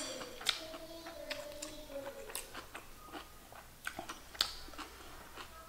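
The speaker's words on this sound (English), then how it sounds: "gotta eat this kimchi stuff before it starts all floating around" Close, soft bites and moist chewing of a kimchi and rice wrap rolled in collard greens, with irregular crunchy crackles and smacks repeating over several seconds in a quiet room.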